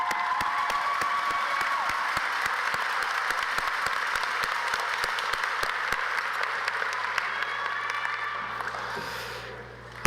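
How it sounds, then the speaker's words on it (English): Sustained audience applause fills a large hall at the SUNY Broome 2024 commencement ceremony: dense, steady clapping with a faint crowd murmur, holding evenly for about nine seconds before tapering slightly at the end. "let's have another round of applause for every graduate and for all the people who have made today possible"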